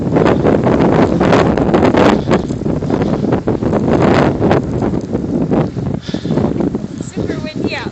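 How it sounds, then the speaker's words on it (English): Strong blizzard wind roars steadily and close against the microphone, buffeting in loud gusts with rustling for the whole stretch, no other sound standing out. "Super windy out."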